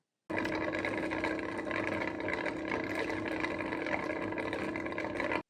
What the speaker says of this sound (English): Now it does make a bit of a noise when it spins out the mops, and a funny gurgling noise too.